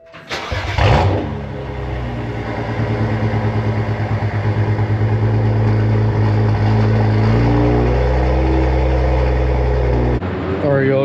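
A car fitted with a newly installed Pure500 turbo cold starts with a sharp starter crank and loud catch, then settles into a steady, throbbing idle with a slight rise in revs, close by, with speech over it.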